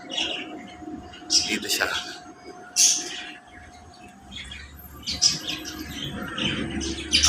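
Pet lovebirds give short, bright chirps in scattered bursts, fairly close, while someone talks over them.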